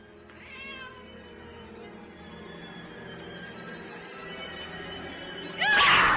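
A cat lets out a drawn-out, wavering meow that slides in pitch, fairly clear against a low ambient background, followed by a sudden loud crash-like burst at the end.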